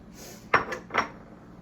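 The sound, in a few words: adding tomatoes to pot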